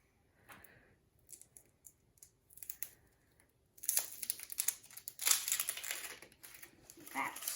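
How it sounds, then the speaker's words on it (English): Dry papery skin crackles and rustles as an onion is peeled. A few soft taps come first, then a sustained, louder crinkling that tears away in one continuous stretch, with no talking. "Now, the onion is ready to peel."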